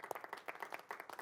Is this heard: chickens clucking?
no